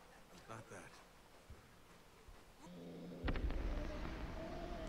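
Fireworks in the video game Spec Ops: The Line burst with a rising boom after a stretch of quieter game ambience and speech, leaving a dense crackling roar that holds to the end.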